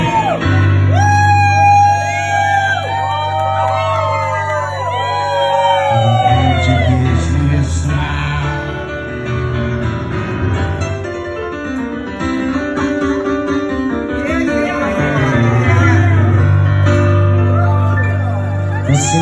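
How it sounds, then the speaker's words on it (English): A lively crowd in a piano bar on a Saturday night whoops, yells and sings along loudly, with rising and falling voices filling the room continuously. "It's a pretty loud crowd for a Saturday."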